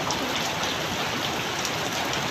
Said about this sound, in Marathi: गारा गारा घ्या गारा.